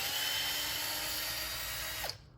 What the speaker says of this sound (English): Get my little drill here and loosen these up.